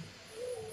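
Pigeons cooing faintly outdoors, a soft low hooting call that swells briefly and fades, with no voices over it.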